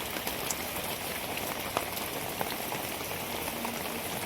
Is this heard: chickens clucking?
no